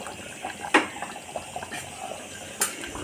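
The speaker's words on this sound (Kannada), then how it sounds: "ಅದರಲ್ಲಿ ಸ್ವಲ್ಪ ನೀರು ಹಾಕಿದ್ದೀನಿ." Water poured into a pan of tomato masala gravy for green chilli chicken, a steady close splashing pour broken by a couple of sharper splashes.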